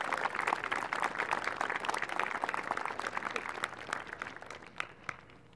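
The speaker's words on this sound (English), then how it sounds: "please give them a round of applause for making it to this point" Audience applause for a middle school chorus at a spring concert, dense steady clapping from a crowd that gradually thins and fades toward the end.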